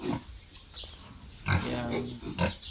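Native pigs on a farm grunting: a few short, low grunts arrive in separate bursts, close and moderately loud, with quiet pen noise between them.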